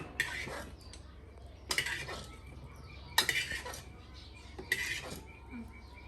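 Food is scooped from a pot onto a plate in a few clattering bursts: metal spoon scraping and clinking against cookware, with pauses between, and faint background voices.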